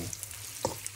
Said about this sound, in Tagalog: So nagigisa na tayo guys para sa ating tahong for today's video.